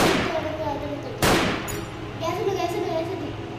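Revolver shots ring out in a zombie survival video game, with a sharp, loud report near the middle and a softer one shortly after, under ongoing game sounds.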